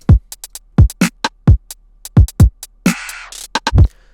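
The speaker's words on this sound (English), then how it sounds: "So I've got this drum pattern that I made in the last tutorial, and it sounds like this." A programmed drum pattern plays crisp kicks and sharp snare and hat hits in a steady beat, loud and dry, with a short sustained tonal burst partway through.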